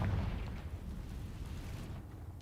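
A deep, rumbling blast from the Confringo explosive spell in Hogwarts Legacy, loud at first and then a low roar that fades over a couple of seconds.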